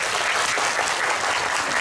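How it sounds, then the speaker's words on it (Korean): An audience at a Korean film screening and talk event claps loudly and continuously, a thick close wash of many hands with a faint crowd murmur beneath. "일단 두 분에게 박수 좀 부탁드리고요."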